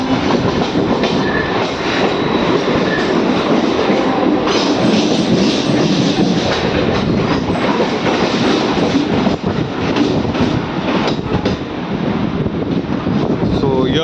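Mumbai local train riding along the rails in South Bombay, a loud, steady rumble with rhythmic clickety-clack of wheels over joints throughout, heard from inside the carriage with faint voices beneath.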